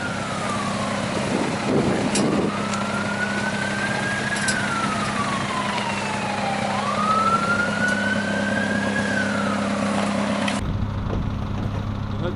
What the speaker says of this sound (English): You heard the sirens there.